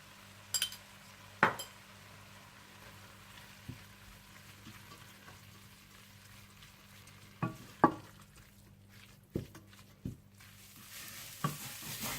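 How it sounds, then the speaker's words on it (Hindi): Minced meat keema with salt and cumin powder fries in a pan, a low steady sizzle broken by sparse utensil scrapes and taps against the pot. "नमक और 1 टीस्पून जीरा पाउडर डालकर इसे अच्छी तरह से भून लें।"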